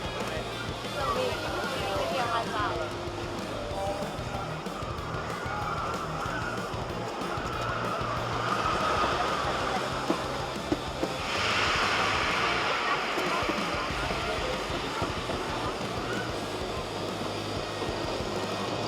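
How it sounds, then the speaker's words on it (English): Classic wooden roller coaster Thunderbolt at Six Flags New England, a steady loud rumble and rattle of the train on the track with wind roar throughout, voices faintly mixed in. "figured we'd ride this classic wooden coaster, Thunderbolt. Let's have a ride on this."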